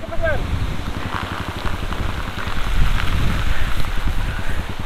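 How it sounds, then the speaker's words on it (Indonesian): Rain falls steadily on a beach motorcycle trip, a dense continuous patter with wind-like wash, close and fairly loud throughout. "Tuh hujan."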